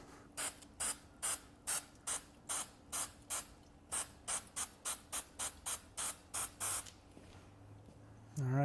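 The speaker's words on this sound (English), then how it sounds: "do a little spray there" Super 77 spray adhesive sprayed onto fabric in a run of about twenty short, even hissing bursts, close and loud, in a steady rhythm that stops near the end.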